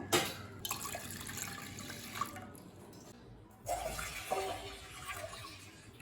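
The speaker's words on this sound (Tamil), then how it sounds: "இப்போ 3 கப் பால் சேர்த்துக்கலாங்க." Milk is poured into ground almonds for badam milk, a soft, near liquid splashing and gurgling in two bursts separated by a brief pause.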